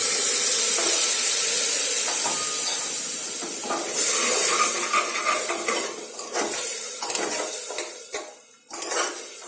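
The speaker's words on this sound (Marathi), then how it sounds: "मसाले जोडू नये म्हणून याच्यात थोडं मी पाणी टाकते" Masala for a cluster bean (gavar) sabji with tomatoes sizzles in a pan on low flame as water is added, with a loud, steady hiss and close clinks and scrapes of a spoon against the pan throughout.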